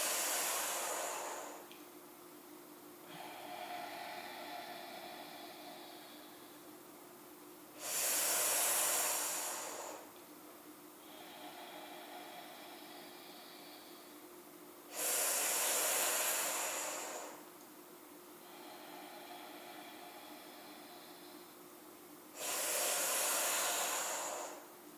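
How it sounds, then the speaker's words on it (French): Slow hissing inhalations drawn through clenched teeth in a cooling yoga pranayama breath, each loud, airy intake lasting about two seconds and recurring roughly every seven seconds, with quieter exhales between them. "Vous inspirez, vous serrez les dents les unes sur les autres et vous laissez passer l'air dans la bouche"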